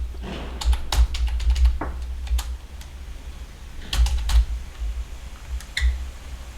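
Python code being typed on a computer keyboard, a steady patter of close, crisp keystrokes in quick irregular bursts with brief pauses between.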